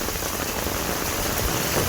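Sudden heavy rain pours down on a Konkan village, a loud, unbroken hiss and patter of drops drumming on surfaces that stays constant throughout, with no voices.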